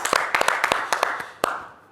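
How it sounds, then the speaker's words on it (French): Scattered audience clapping at a French talk show, a dozen or so distinct hand claps in an uneven rhythm over about two seconds, fairly close and moderately loud, with no applause swell building. "on peut applaudir"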